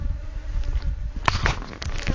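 Honey bees swarm around an opened, smoked hive, their loud, close buzzing forming a steady drone broken by a few sharp clicks and knocks of handling.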